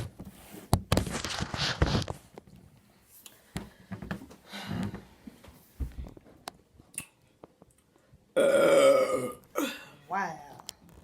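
A woman lets out several burps during a playful burping challenge, with a long loud one near the end standing out, amid laughter, chatter and scattered handling noises close by.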